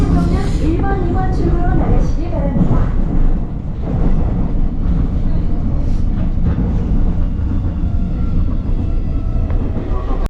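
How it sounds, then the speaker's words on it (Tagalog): A Seoul subway train rumbles steadily throughout, loud and close from inside the car, with rattling and wind-like roar, while voices talk over it at the start. "I really enjoyed riding the subway"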